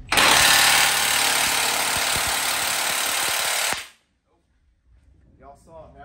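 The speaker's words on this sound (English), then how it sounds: "Y'all saw it, 1/2 inch impact is weak." A 1/2 inch impact wrench hammers loudly and continuously on a truck suspension install for nearly four seconds, then stops abruptly, leaving quiet room sound and faint voices.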